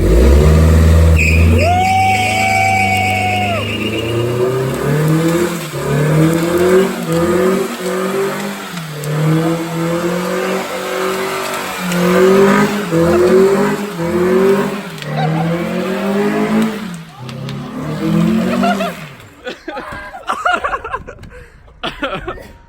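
A tuned BMW 335i revs and pulls hard through several rising gear pulls, its engine note loud and close with sharp crackles from the exhaust. People laugh and chuckle briefly near the start before the car drives off and fades.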